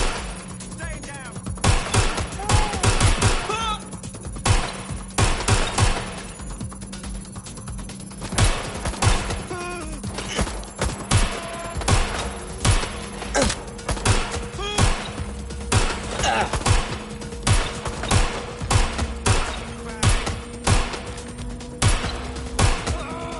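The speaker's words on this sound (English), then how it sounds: "Shots fired!" Video game gunfire on a PS4 live stream, with many sharp shots and rapid bursts spread across the clip, some close and loud and others farther off, over a low steady background hum.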